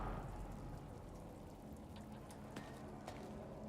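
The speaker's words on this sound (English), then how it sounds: "It's raining." Rain falls in the video game Marathon, a soft continuous patter and hiss with a few faint droplet ticks, quiet and steady throughout.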